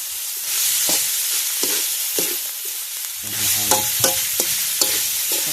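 Spicy eel and squid stir-fried in a hot wok, a constant loud sizzle with repeated scraping and clanking strokes of a spatula against the pan, no voices.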